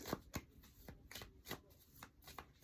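Tarot cards are shuffled by hand in a quiet room, giving a series of soft, quick riffling and slapping bursts at an irregular rhythm, close but faint.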